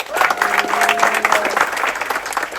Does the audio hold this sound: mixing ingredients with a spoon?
no